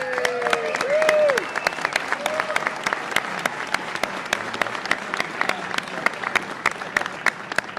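Applause rings out for a county sheriff at a New York law enforcement rally against bail reform. Dense, steady clapping from a crowd carries for several seconds, with crisp individual claps standing out near the front and voices briefly audible underneath.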